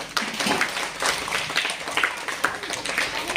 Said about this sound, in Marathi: छान दोघांसाठी जोरात टाळ्या चला पुढची जोडी श्रावणी आणि आरुष जोरदार टाळ्यांनी सुरुवात